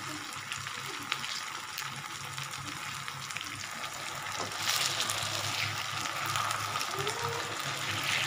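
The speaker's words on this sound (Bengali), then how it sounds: "এটা ভাজাভাজি হচ্ছে" Chicken pakoras fry in oil on a lowered gas flame with a soft, steady sizzle that swells noticeably louder about halfway through.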